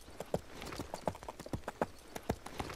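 Cartoon horses walk in a parade, their hooves clip-clopping in a steady, uneven rhythm at moderate distance.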